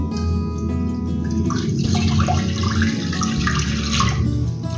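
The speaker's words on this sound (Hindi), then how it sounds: "अब मैं एक पैन के अंदर 1 लीटर दूध डालूंगी।" A litre of fresh milk pours steadily into a pan in one continuous, close-up stream of liquid lasting several seconds, with no talking.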